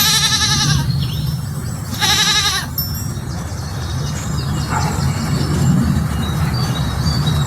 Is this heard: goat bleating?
yes